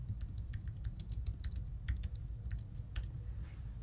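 Rapid, steady typing on a computer keyboard, close and clear, with a continuous patter of keystrokes while code is entered in Python and no talking.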